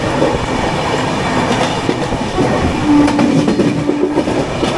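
The Deccan Queen passenger train runs on the rails between Pune and Mumbai, heard from on board as a continuous close rumble with rhythmic clickety-clack of wheels over joints and a brief faint squeal, without talk.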